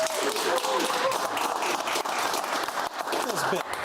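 Studio audience applause on a televised political talk show, a steady broad wash of clapping that fills the clip at moderate level, with faint voices mixed underneath.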